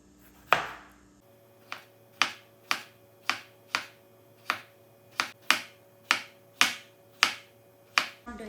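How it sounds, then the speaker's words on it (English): A kitchen knife slices vegetables into thin circles on a cutting board, about a dozen sharp, close chops in a steady, even rhythm with no voices. "I'm gonna chop them in decently thin circles."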